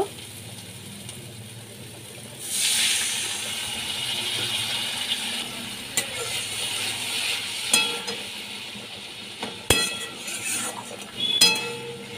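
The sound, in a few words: water added to frying spice paste, hissing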